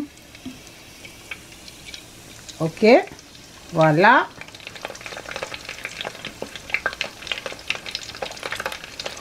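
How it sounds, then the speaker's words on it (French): Potato balls deep frying slowly in oil over medium heat, a busy bubbling sizzle with dense crackles that builds through the second half, while a person speaks briefly in French near the start. "ça va frire lentement, sûrement."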